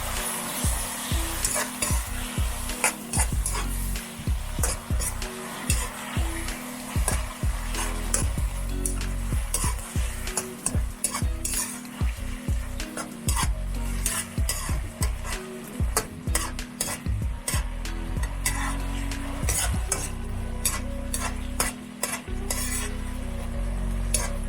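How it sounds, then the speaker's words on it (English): A spoon stirs fish sauce in a frying pan while making tamarind sauce for fried pompano, with repeated scraping strokes over a steady close sizzle and no talking. "Give it a stir."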